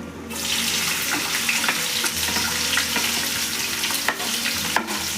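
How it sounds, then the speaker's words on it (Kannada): Chopped onion and green chillies fry in hot oil for chilli chicken, a steady close sizzle with stirring scrapes throughout and no talk. "ಇವಾಗ ಹೆಚ್ಚಿಟ್ಕೊಂಡಿರೋಂಥ ಈರುಳ್ಳಿ ಹಾಗೆ ಹೆಚ್ಚಿಟ್ಕೊಂಡಿರೋಂಥ ಹಸಿಮೆಣಸಿನ್ಕಾಯಿ ಎರಡನ್ನೂ ಒಟ್ಟಿಗೆ ಹಾಕೋತಾ ಇದ್ದೀನಿ."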